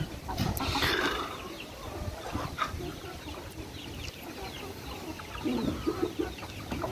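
Farm chickens clucking and squawking while they eat their feed, several birds close by in a steady busy chorus with occasional louder calls.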